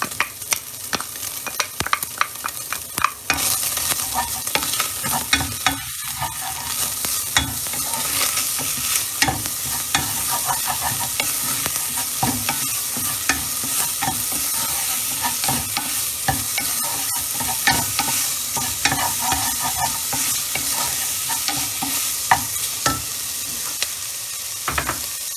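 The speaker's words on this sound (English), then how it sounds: "Now I'm gonna add the onions." Onions frying in a pan over medium heat crackle loudly and continuously, with rapid utensil scraping and stirring clatter throughout.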